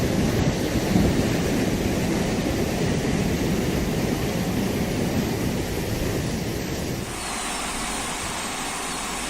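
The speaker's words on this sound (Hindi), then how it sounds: "बीते 2 दिनों से यहां पर लगातार बारिश हो रही है" Heavy monsoon rain pours steadily in hilly Uttarakhand flood country, a dense loud roar with low thunder rumbling beneath; the downpour thins abruptly near the end.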